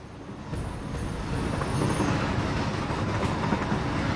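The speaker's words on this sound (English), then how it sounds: "The best thing about this so far is this train." A train in the video game Satisfactory runs with a steady, loud rumbling roar and faint rail squeals, continuous throughout, with no voices.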